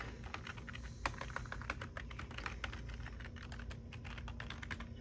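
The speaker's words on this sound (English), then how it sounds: "So you can just type in there." Typing a note on a computer keyboard in a daily planner program, steady quick key clicks close by and fairly quiet, with no talking.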